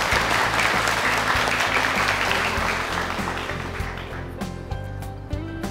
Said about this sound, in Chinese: 下面让我们掌声有请模特再次登台